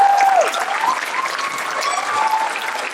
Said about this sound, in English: can we please give another round of applause and other celebrations